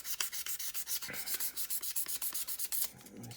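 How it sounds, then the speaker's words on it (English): A brass chassis being sanded by hand with sandpaper, a rapid, rhythmic series of close, scratchy back-and-forth rubbing strokes, about seven per second, fairly quiet and alone. "we're gonna try it out to see how it comes out once we get it all a little sand"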